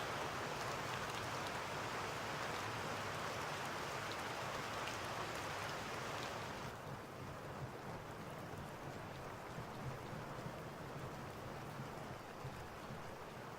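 Steady rain in the tactical shooter Insurgency, a constant dense hiss of falling drops that thins and softens partway through, with no voices.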